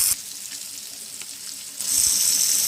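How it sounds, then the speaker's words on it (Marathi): White sardines shallow fry in a pan with a steady close sizzle and spatter, which grows brighter and louder partway through as the fish are moved. "अशा पद्धतीने शॅलो फ्राय केले तर पटकन शिजतात."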